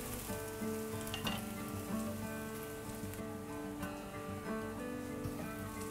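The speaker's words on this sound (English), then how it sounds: "Now we're going to fry them on the medium heat." Raw banana and potato kebabs frying in hot oil over medium heat, a steady close sizzle and crackle with scattered pops throughout.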